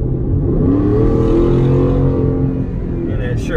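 Ford F-150 pickup with a 5.0 V8 and Corsa Extreme exhaust accelerating, a steady deep engine rumble rising as it pulls, heard from inside the cab, with a brief voice near the end.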